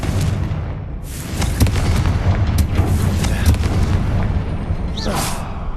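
A heavy booming blast from the Confringo spell in Hogwarts Legacy, a sustained loud rumbling explosion with crackling bursts layered over it and a fading tail near the end.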